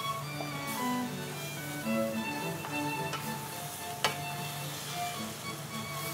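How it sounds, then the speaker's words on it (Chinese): Doubanjiang bean paste sizzling and crackling in hot oil in a wok over medium heat, a steady close fry with scattered sharper pops and a tonal hum beneath. "然后我们就要把我们的豆瓣酱放进去，也给它爆香。"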